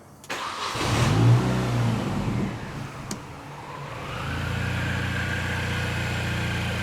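A Mini Cooper's engine cranks and catches, then settles into a steady running drone with a brief revving swell, close and fairly loud, with no talking.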